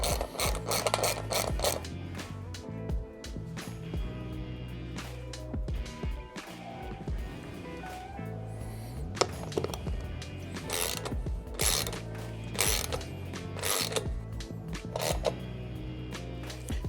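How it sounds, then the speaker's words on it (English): A ratchet tightens bolts on a skateboard roller kit, with rapid clicking pawl bursts repeating close up and loud throughout, alongside some clunks of parts shifting. "Just use a ratchet, go nice and slow."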